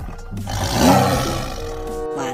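A toy tiger lets out a loud electronic roar, a rough growling burst that swells and fades over about two seconds, close up and alone.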